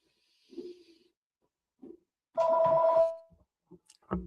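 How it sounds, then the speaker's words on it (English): A phone goes off with a short electronic ring burst lasting under a second, fairly clear and alone, with scattered faint noises around it. "There's a phone going off."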